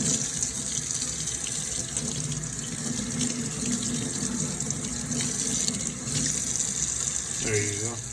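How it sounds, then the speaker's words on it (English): Tap water runs steadily into a sink as raw ribs are rinsed under it, a loud close gush with slight splashing shifts and a brief change in flow near the end. "Now you want to just wash off the excess blood off of"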